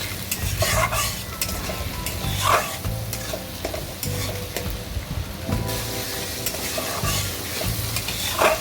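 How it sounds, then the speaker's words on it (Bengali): Onion, ginger and garlic paste frying in a pan, stirred with a utensil: steady close sizzling with periodic scraping strokes and soft clinks throughout, no voices. "মশলাটা আরেকটু নেড়ে ফেলে দেবো এই যে একটু সুন্দর ভাজা হয়ে আসলে"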